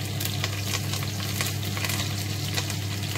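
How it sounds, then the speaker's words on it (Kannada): Green chilli, garlic and curry leaves fry in hot oil for a Tulunadu-style pulimunchi, giving a steady, dense sizzle that runs evenly throughout with no voices. "ಎಣ್ಣೆ ಬಿಸಿ ಆಗಿದೆ ಕಾಯಿ ಮೆಣಸು ಬೆಳ್ಳುಳ್ಳಿ ಬೆಳ್ಳುಳ್ಳಿ ಸ್ವಲ್ಪ ಜಾಸ್ತಿ ಜಾಸ್ತಿನೇ ಹಾಕಿ"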